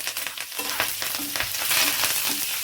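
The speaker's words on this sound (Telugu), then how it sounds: "కరివేపాకు చాలా ఫ్రెష్గా ఉందండి చిటపట్లు ఆడుతుంది" Fresh curry leaves, with cumin and mustard seeds, crackle and sizzle steadily in hot oil with scattered sharp pops, a close, busy frying sound with no talking.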